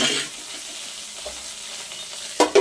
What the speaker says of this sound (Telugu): ఒక 2-3 మినిట్స్ వేయించుకుంటే సరిపోతుందండి ఇది.